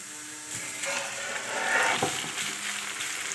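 Green beans frying in oil in a large black village pan, a soft continuous sizzle with a few light scrapes and clinks, close but fairly quiet, no talking.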